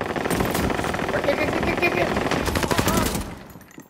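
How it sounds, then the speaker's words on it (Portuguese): Rapid automatic gunfire from Call of Duty: Modern Warfare, dense bursts of rattling shots at close range that taper off at the end, mixed with a brief shouted voice. "Controla os disparos!"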